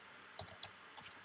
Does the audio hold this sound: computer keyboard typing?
yes